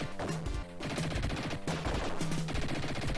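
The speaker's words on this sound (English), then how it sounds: "Okay, it's satisfying, that machine gun." Rapid bursts of machine gun fire from the Dick Tracy game on the Sega Mega Drive, repeating in quick stuttering volleys over a busy game soundtrack with no talking.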